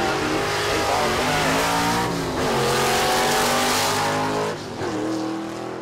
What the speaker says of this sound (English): Good side-by-side drag race.